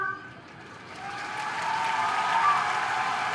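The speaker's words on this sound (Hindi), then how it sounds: "put your hands together once more for all the participants from Orissa" Applause from a festival audience for performers from Orissa at a Dussehra celebration during a yoga culture festival, a soft wash of clapping that swells gradually and holds steady, moderately distant.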